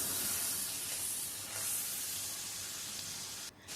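A little water hits frying spices in a hot pan, bringing a continuous loud steamy hiss that fades slightly and dips near the end.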